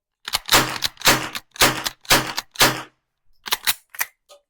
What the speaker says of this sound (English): So that's 5 rounds for pulling the trigger. And as I said earlier, you can bump fire this as well.